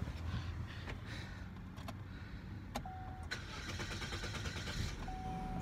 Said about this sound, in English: You see the engine's running.